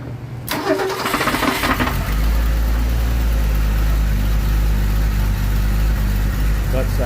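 A 1981 Ford Mustang V8 engine cranks for a couple of seconds after a double-roller timing chain installation, then catches and settles into a loud, rumbling idle with a deep steady low-end.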